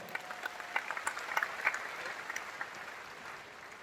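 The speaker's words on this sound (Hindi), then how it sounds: "एक बार आप सबके लिए जोरदार तालियां हो जाए" An audience at an RCM business program breaks into sustained applause, a steady wash of many hands clapping with a few sharper claps standing out, moderately distant and fairly quiet.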